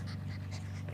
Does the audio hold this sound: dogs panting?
yes